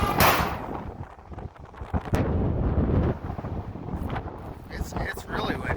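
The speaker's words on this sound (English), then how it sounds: "The wind really picked up." Strong wind buffets a microphone in an open field during rye seeding, a loud rumbling roar with gusty surges and sharp thumps throughout, no voices.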